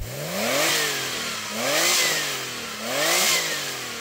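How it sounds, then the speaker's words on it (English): A Porsche 964-generation 911 Turbo engine revs three times in a steady rhythm, each blip rising and falling smoothly, loud and close with no voices. "let's hear the 964, rev that up"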